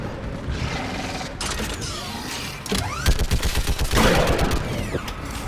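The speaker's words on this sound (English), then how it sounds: "Get on that gun up there and do some damage!" A mounted gun in Mass Effect 3 firing rapid bursts of shots over mechanical clanking and creaking, with the fire growing denser and louder in the second half.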